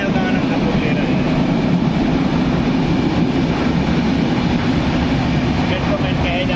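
A Konkan Railway train runs through a tunnel, its loud, steady rumble filling the space continuously with a broad, dense roar and no breaks.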